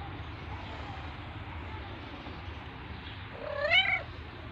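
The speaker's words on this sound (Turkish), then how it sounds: "Kedi geliyor." A single wavering meow from a pregnant cat rises near the end over a steady background rumble, close and moderately loud.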